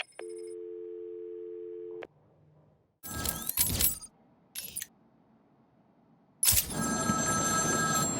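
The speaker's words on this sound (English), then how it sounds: "Find my phone now" A payphone rings in Batman: Arkham City with a steady electronic tone for about two seconds. Rattling clatter and metallic jangles follow in separate bursts, then a loud clunking handling noise, with no voices.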